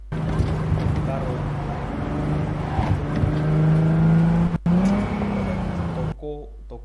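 A car drives past in the Cyberpunk video game, a steady engine drone that swells and pitches up as it nears, mixed with other game sounds and ending abruptly.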